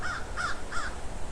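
Crows in an autumn garden give three evenly spaced caws in quick succession, moderately distant and clear over a quiet background.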